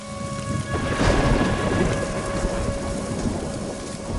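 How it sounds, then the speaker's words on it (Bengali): Steady rain pours onto surfaces near a village outside Darjeeling while a deep thunder roll swells and fades, loud and close with no voices. "কিছুক্ষণ পর বৃষ্টি শুরু হলো।"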